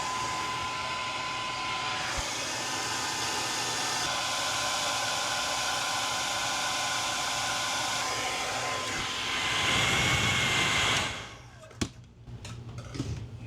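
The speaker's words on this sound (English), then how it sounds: "What about like a hair dryer? Would that help?" A hair dryer blows steadily and loudly while it is used during an RV refrigerator repair. It runs as a continuous whooshing drone for about eleven seconds, then cuts off, leaving light handling noises.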